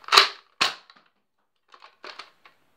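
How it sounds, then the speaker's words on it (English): An old Nerf foam dart blaster fires with no magazine loaded, giving two sharp, close pops about half a second apart, then a faint cluster of small clicks and rattles from the mechanism. "It didn't even have a mag in it and it just fired."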